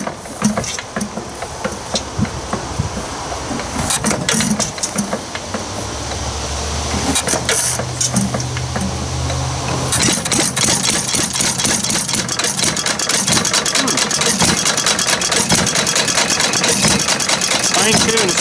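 An old Ford 800 tractor engine, long unused with stale gas, cranks and then catches, settling into a loud, rough, rapidly knocking idle that runs on without pause.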